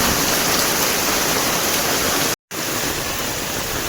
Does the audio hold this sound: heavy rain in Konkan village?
yes